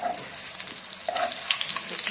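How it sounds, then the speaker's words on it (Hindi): Besan sabzi frying in a pan while being stirred, with a steady close sizzle running throughout and brief scraping bursts from the stirring. "अच्छी तरह से फ्राई करके इसको निकाल लेना है।"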